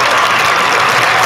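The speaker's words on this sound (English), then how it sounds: "Give us a round of applause" A dense burst of audience applause, loud and continuous for a moment, with a faint crowd murmur underneath.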